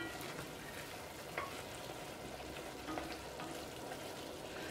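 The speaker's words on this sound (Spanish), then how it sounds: "Vamos a dejar un par de minutos que se fría esto" Seasoned beef for a Peruvian beef stew frying in a pan over medium heat: a steady close sizzle and crackle throughout, with a couple of faint stirring clicks and no talking.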